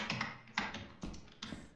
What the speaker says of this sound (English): I like how it's just him typing.